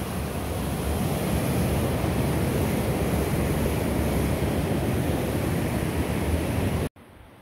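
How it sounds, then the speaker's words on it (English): Steady rushing flow of Laurel Creek along the Appalachian Trail, a continuous broadband wash of moving water heard close and fairly loud with no talk, cutting off abruptly near the end. "I believe this is Laurel Creek."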